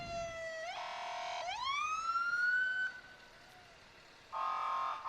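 Fire engine siren at a parade, rising and falling wail that sweeps up strongly, fades out, then returns in a short loud burst near the end, heard alone without talk.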